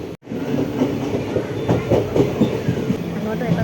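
Train rolling along rail tracks on a rainy journey from Trivandrum Central to Varkala, with a continuous rumble and rhythmic clickety-clack of wagon wheels heard from inside.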